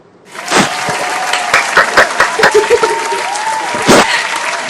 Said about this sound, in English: See, if you should clap for this one.